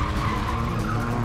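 Tires of a stunt car screech in a sustained, loud skid through a tight U-turn, with engine noise underneath and nobody speaking.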